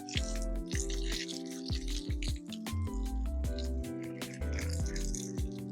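Water splashes and drips while soaked country chicken is rinsed clean, in steady close splashing over background music.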